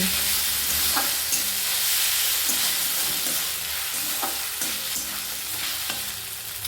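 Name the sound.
stir-frying ginger garlic paste with pumpkin in pan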